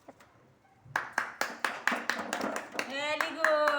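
Children clap in a quick run of sharp, evenly spaced claps in a classroom quiz on maths and everyday things. An adult's voice is heard talking alongside, and near the end a voice can be heard too.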